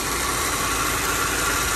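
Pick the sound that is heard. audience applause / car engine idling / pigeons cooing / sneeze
car engine idling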